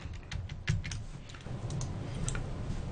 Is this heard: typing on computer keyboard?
yes